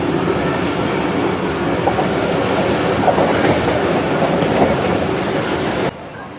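The Pak Business Express rolls out of Landhi station with a steady, loud rumble of wheels on rails and rhythmic clickety-clack from the carriages, heard from aboard the moving train.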